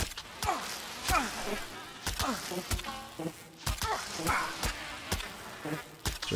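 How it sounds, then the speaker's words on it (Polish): Grey fly buzzing in the survival game Smalland, a wavering insect drone that rises and falls around the listener, punctuated by repeated sharp thwacks and thumps. "Czy jakaś mucha szara?"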